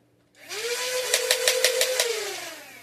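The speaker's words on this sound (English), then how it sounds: "So you rev it by gripping the blaster tightly." A Dart Zone Venom Pro foam blaster's flywheel motor spins up with a rising whine, holds a steady high hum with a quick series of rhythmic bursts over it, then begins to wind down.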